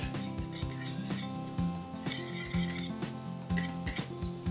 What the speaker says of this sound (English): Let's go in with a whisk and mix it up.